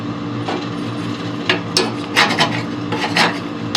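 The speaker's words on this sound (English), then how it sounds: "I like to scrape the sides a little bit." Scraping inside a Harman pellet stove's firebox, a metal tool rasping along the sides in short irregular strokes, close and fairly loud over a steady low hum.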